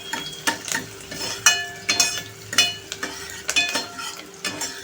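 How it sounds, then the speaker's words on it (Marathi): Finely chopped onion frying in about three spoons of oil in a pan, a soft continuous sizzle broken by regular scraping stirs of a spoon, close and moderately loud. "कांदा आपल्याला छान असा ना लालसर करून घ्यायचा आहे, लाल असा गोल्डन फ्राय करून घ्यायचा आहे"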